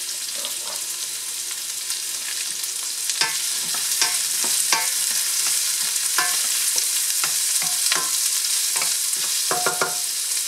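Onion sautés in a pot for chili con carne, a constant bright sizzle with frequent sharp scrapes and taps of a utensil stirring at an uneven pace, close and clear with no talking.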